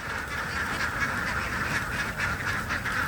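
A flock of domestic ducks quacks steadily at dawn as they get ready to leave their pen, a dense, continuous, close chorus of overlapping calls. No one speaks.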